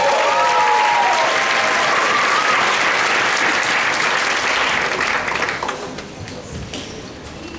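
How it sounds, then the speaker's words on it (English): Dense crowd applause at a mayoral campaign opening event, loud and sustained with a few cheers and whoops early on, easing slightly toward the end. "give yourselves a round of applause"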